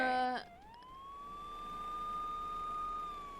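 Police car siren in the Schedule 1 video game, a clear electronic wail that cuts in after a brief burst of other game sound and then holds a long, steady rising tone, fairly loud, with no voices.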